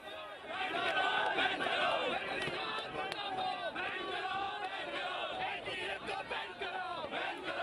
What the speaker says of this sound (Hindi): तालियां बजाते हुए, हाथों में झंडे, बैनर, पोस्टर लिए हुए एनटीए का घेराव किया जा रहा है।